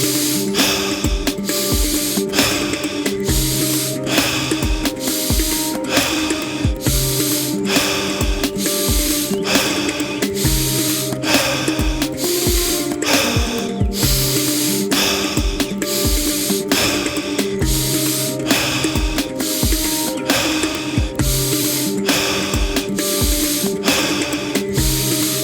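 Rhythmic alkaline breathing exercise done outdoors in nature beside a fire, with steady, repeated sharp breaths in a quick regular pulse, loud and close throughout.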